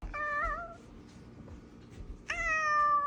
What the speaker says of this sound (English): Cat just flew through the sky.